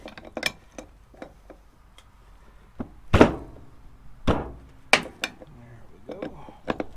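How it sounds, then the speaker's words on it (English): Working a cotter pin loose on a cheap gantry crane gives sparse metallic ticks, taps and a few sharper clanks and scrapes, close by, uneven and intermittent against a quiet background. "Let's see if I can't get this cotter pin out."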